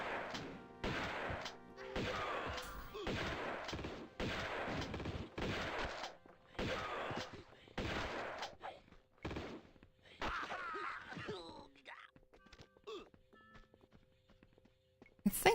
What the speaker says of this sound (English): Are they attacking me because I'm shooting?